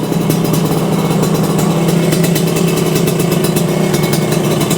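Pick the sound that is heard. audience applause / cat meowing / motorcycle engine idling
motorcycle engine idling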